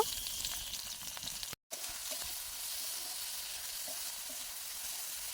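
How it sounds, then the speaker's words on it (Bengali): Chopped garlic and dried fermented fish (shidol) fry in oil, giving a steady, close, broadband sizzle that cuts out for a split second before carrying on evenly. "রসুন আমি ভালোভাবে ভেজে নেব, তারপরে দিয়ে দেব আমি শীতলটাও আমি ভালোভাবে ভেজে নেব।"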